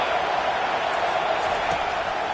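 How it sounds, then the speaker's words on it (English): A football stadium crowd roars on third down, a broad sustained wall of cheering noise at steady loudness, with a commentator's voice running over it. "3rd down, and this crowd is tearing the lid off this place."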